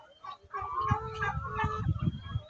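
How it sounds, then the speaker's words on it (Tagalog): Chickens and a turkey on a farm make close, nasal clucks and gobbling calls, several birds overlapping in a short burst of squawks. "Oh, may pabo. May manok."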